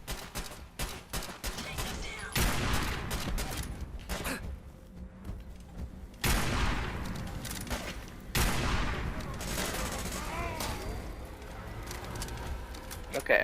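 Video game gunfire crackles in scattered bursts and volleys with sharp, sudden onsets, mixed with voices at times.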